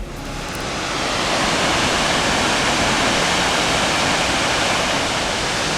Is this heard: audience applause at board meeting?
no